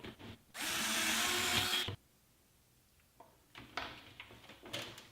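A power drill bores a hole for mounting a DIY LED photography light, one loud steady whine lasting over a second, followed by a pause and then quieter handling clatter and tool knocks.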